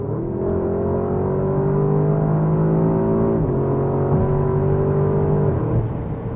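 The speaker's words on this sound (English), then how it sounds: "when you're feeling like you wanna step on it, I mean, this car absolutely moves." A Porsche Cayenne Turbo GT performance SUV accelerates hard, its engine droning loudly and climbing in pitch, with brief drops at each gear shift, heard close and without talk.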